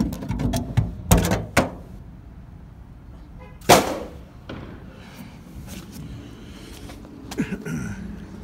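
An old drawer among scrap pulled from a Sears store is opened and handled, giving several sharp wooden knocks and thuds, a louder bang near the middle and a few scattered clatters, with quiet room noise between.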